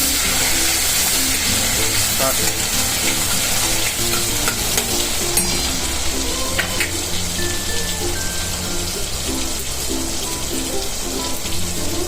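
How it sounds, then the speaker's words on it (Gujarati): Finely chopped tomatoes fry with green chili paste in a pan for aloo bhandara. A continuous crackling sizzle runs throughout, broken by frequent scraping knocks of a spoon stirring against the pan, close and fairly loud. "પછી ટમેટા નાખી દીધા આપણે એને ખૂબ ચલાવી ચલાવી લઈશું"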